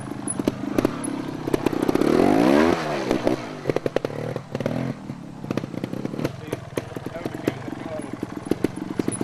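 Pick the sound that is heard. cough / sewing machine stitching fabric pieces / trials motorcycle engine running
trials motorcycle engine running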